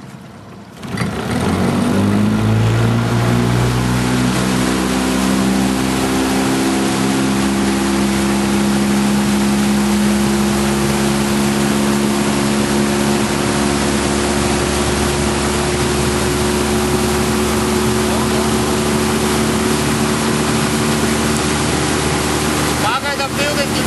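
A Honda BF10 outboard motor pushes a Lota 360 boat. The engine starts up, then settles into a loud, steady drone with a rising pitch as it accelerates, running continuously up close over water.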